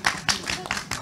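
An audience claps in a brief scattered burst, a few distinct claps in uneven rhythm, fairly close and moderately loud.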